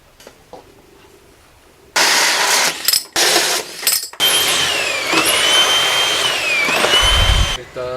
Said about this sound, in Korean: 여기 바닥에 이제 구멍을 뚫을 거거든요.